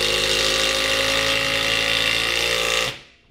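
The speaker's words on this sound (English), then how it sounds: "And then it'll ramp up those RPMs to drive the fastener within the material." Makita subcompact driver in assist mode driving a fastener into material, a loud steady high-pitched motor whine held for about three seconds, then cutting off abruptly and fading out.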